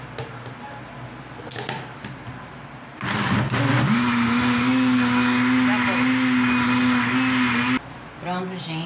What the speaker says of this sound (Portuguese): passando ela no liquidificador